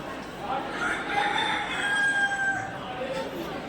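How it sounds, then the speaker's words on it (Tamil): Rooster kept at a temple crows one long drawn-out call, clear and moderately near, over faint outdoor background noise. "இந்த சேவல்லாம் பார்த்தீங்கன்னா கோவிலில் தான் வளர்க்குறாங்க"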